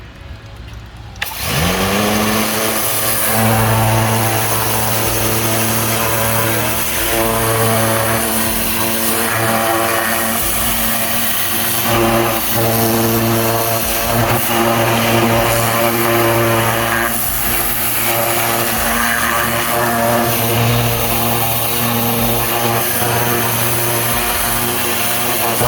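Ryobi 1600 PSI 1.2 GPM electric pressure washer blasting a wheel clean, a loud, constant motorized drone with hissing spray that starts abruptly after a second and runs unbroken throughout.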